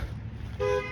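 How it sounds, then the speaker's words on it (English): A car horn honks once, loud and close, over a low engine rumble in an alley, with the short blast starting just past halfway and holding to the end. "I guess good for you for honking down an alley."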